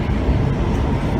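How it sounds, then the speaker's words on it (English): Hotham Valley Railway train running, a heavy low rumble and rolling rail noise heard from on board, steady and loud with no talk. "It's good to be travelling on the Hotham Valley Railway."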